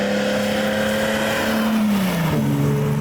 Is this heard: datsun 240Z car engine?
yes